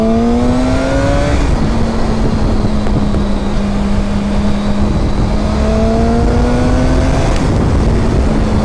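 A 2006 Honda CBR1000RR sportbike engine revs in neutral, rising in pitch then settling to a steady high drone before climbing again, loud and close under heavy wind rush.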